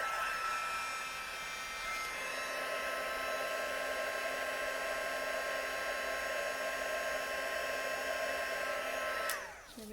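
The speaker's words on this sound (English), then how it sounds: "Careful not to burn your fingers when you're heat embossing." A heat embossing tool blows hot air in a steady, loud, continuous whoosh while a greeting card is made, switching off abruptly near the end.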